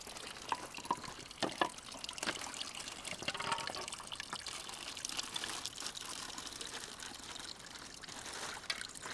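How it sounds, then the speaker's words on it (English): Water flows and trickles steadily at a mountain shelter's water source, a continuous faint splashing with scattered drips throughout. "So this was the water source here at the shelter."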